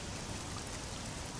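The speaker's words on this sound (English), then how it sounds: "It is raining out there." Steady rain falls in the fantasy video game Oblivion, a dense, even hiss of drops at constant level with no breaks, filling the whole short stretch.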